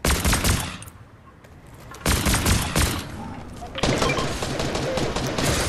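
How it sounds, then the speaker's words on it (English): Rapid bursts of gunfire during a Fortnite match, dense and loud, with a brief lull before the shooting resumes, and voices talking over the action. "What's he shooting at?"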